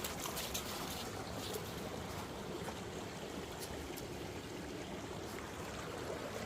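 Clear mountain water at about 7,000 ft, amid snow and ice, flows in a steady close rush with an unbroken babbling wash and no talk.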